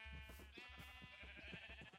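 Sheep bleating in the Minecraft video game, a run of short repeated bleats in quick rhythm, close and steady, with no talk over them.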